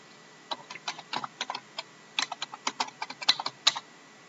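Typing on a computer keyboard during village survey data entry: quiet, close keystrokes in irregular bursts, with a short pause before a faster run of clicks and a couple of sharper taps near the end. Nobody speaks.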